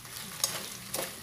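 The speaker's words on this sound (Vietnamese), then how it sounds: "Thì các bạn cứ xào như thế này ha, cho đến khi nào mà nó rút hết cái phần nước sốt này của mình vô đây." Tofu skin stir-fried in a pan with a savory vegetarian fish-sauce glaze: a soft, steady sizzle with two brief scraping stirs, faint and close, with no talking.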